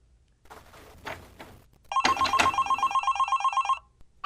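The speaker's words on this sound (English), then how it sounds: "A phone rings several times." An old telephone rings in a dark room, a loud rapid bell trill repeating for about two seconds after some faint rustling and thumps, then cutting off.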